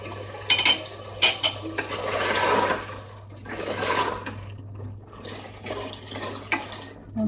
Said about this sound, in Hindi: तकरीबन 5 मिनट तक हम इसे मसलसल भूनेंगे।